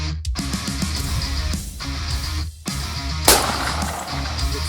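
Rifle gunfire on a hot-weather deer hunt, several sharp cracks spread across a few seconds, with a steady background hum between the shots.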